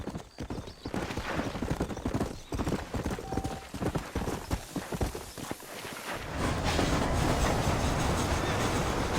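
Horse hooves clip-clop in a steady trotting rhythm in a Red Dead Redemption game scene, close and clear, before giving way to a louder continuous rumble of movement.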